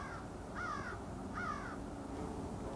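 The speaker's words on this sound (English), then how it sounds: "The most interesting thing, of course, is the birds at this time of the day. You can hear them in all directions." Birds call at this time of day from all directions. Two distinct cawing calls, like crows, sound from a distance over a constant broad background hiss.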